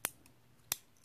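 Three sharp, crisp clicks from a Honda Civic power window switch being toggled, spaced unevenly and heard up close with nothing else around them.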